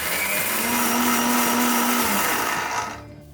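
A mixer grinder pulverizes dried red chillies to powder, a loud close motor whine with a steady pitch that dips slightly before the machine cuts off and spins down near the end.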